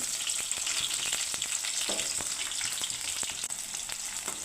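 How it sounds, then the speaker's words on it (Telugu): Sliced onions sizzle loudly in a pan as the base for a chicken curry, with a continuous crackling fry and a few stirring clicks, no voices. "ఆనియన్స్ కొద్దిగా ఫ్రై అవ్వాలి."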